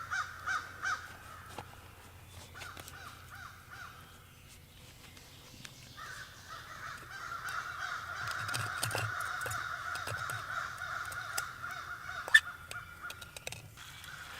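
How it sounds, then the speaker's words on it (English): Several crows caw loudly and repeatedly, their harsh calls overlapping and growing busier over outdoor background noise. "Man, them crows are loud."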